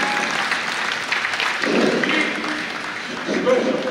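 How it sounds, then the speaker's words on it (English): Audience applause at a youth basketball coaches clinic, a broad steady clatter of clapping filling the room for a few seconds with crowd noise and some voices mixed in. "I want everybody to give a loud applause right now for her."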